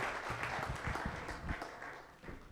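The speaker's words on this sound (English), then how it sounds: "a warm round of applause, warm welcome to Jackie and Kimberly" Audience applause welcoming two speakers at a conference, a soft, fairly distant patter of clapping that fades slightly before a brief swell at the end.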